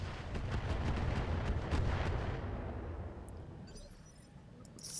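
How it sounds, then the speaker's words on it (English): Tandem rockets from grenade launchers strike a Hetzer tank in the RogueTech video game, producing a continuous low rumbling barrage of explosions that fades toward the end, with a few faint crackles. "we are going to drop one of these tandem rockets onto this Hetzer with"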